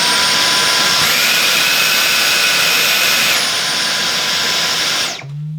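Dyson Micro 1.5kg cordless vacuum cleaner running on its max setting, a loud, steady high-pitched whine with a rising tone shift partway through, cutting off abruptly near the end.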